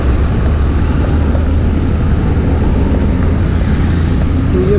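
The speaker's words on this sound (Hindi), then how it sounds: "तो ये मेट्रो जा रही है" A Mumbai metro train passes close by, heard from a bicycle ride through the city as a loud, continuous low rumble with a steady roar of traffic-like noise.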